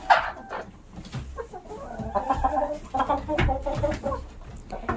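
Brahma chickens, including a blue Brahma, cluck and murmur continuously in a busy coop, with a few louder calls rising over the steady clucking.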